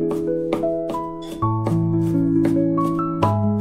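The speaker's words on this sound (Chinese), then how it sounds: "然后直接给它剁成蒜末，" Garlic is minced finely with a kitchen knife, a steady run of sharp, close chops striking the board about twice a second beneath continuous background music.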